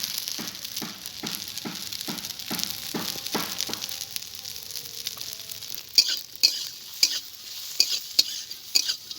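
A pan fries with salt and turmeric added, a steady close sizzle with rhythmic stirring scrapes, then a few louder sharp clinks of a spatula against the pan toward the end.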